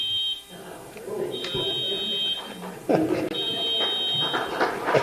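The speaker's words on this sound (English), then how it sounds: "As annoying as that buzzer was" An electronic buzzer blares in repeated steady tones through a meeting room at a chamber of commerce candidate forum, sounding over a murmur of talking people and shuffling noises.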